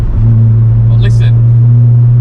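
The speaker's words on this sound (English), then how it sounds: "It's pretty noisy. Yeah, that's just the engine." A car engine fitted with a loud Milltek Evo2 exhaust, manifold and sports cat drones steadily and loudly throughout, a deep constant rumble on a country road, with a brief voice over it midway.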